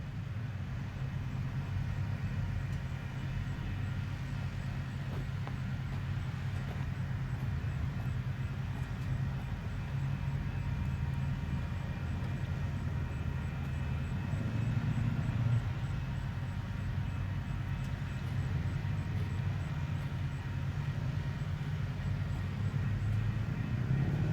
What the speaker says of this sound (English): Train coming. Yep, sounds like we're getting a move on maybe on the stack train.